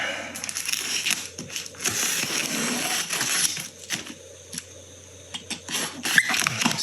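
Blade slicing and tearing through cardboard shoebox packaging, with crinkling, scraping and crunching at close range in an irregular series of bursts.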